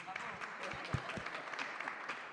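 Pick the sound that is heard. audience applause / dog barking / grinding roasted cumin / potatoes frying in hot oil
audience applause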